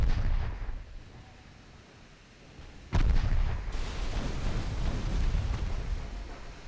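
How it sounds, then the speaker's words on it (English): A torpedo strikes a ship in a naval combat game set in 1897: a sudden loud boom cuts in after a quieter rumbling stretch and is followed by sustained heavy, roaring explosion noise. "There we go, torpedo away."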